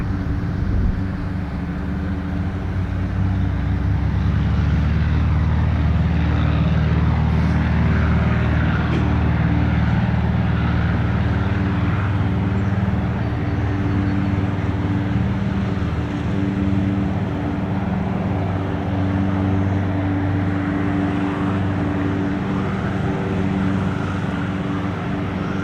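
A small propeller airplane at Spirit of St. Louis Airport rolls down runway 26 left for takeoff, its engine a loud, steady drone with low rumble held throughout with no talk.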